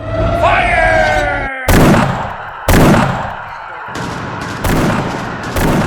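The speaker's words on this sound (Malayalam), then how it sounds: "വെടിയുണ്ടകൾ നിമിഷനേരങ്ങൾ കൊണ്ട് അവരുടെ ദേഹത്ത് ഒന്നിനു പിറകെ ഒന്നായി ആഴ്ന്നിറങ്ങുകയായിരുന്നു" Dramatized gunfire for a Jallianwala Bagh massacre scene: about five loud, sharp blasts spaced roughly a second apart, each with a long echoing decay, after a low droning groan at the start.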